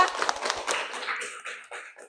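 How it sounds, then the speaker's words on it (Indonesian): A classroom of students gives a short burst of hand clapping for a classmate, sparse and uneven, fading out over about two seconds. "Beri tepuk tangan untuk Adiba."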